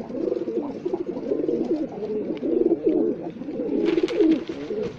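Several pigeons coo continuously nearby, overlapping soft throaty warbles in a steady chorus, with a brief rustle of wings near the end.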